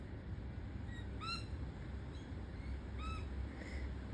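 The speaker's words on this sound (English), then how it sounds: "birds that you can hear above the wind are called rainbow lorikeets" Rainbow lorikeets give a few shrill, squeaky calls, some nearer and some farther off, over a constant roar of wind outdoors.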